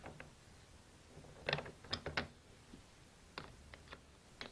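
Marine toilet pump being fastened and tightened by hand, quiet clicking ratchet-like ticks and small mechanical clatters in short irregular clusters, close and faint.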